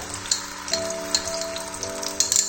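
Tomato puree frying in hot oil for seem posto, a close crackling sizzle with scattered pops and spatters over a steady hiss, no voices.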